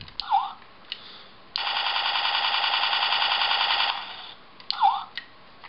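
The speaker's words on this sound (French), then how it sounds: "ça va être le bruit tout simplement des mitraillettes avec la lumière" Electronic machine gun effect from a Transformers Universe Onslaught toy with flashing light: a steady buzzing electronic rattle lasting over two seconds, framed by short warbling electronic chirps, close and moderately loud, with no talk.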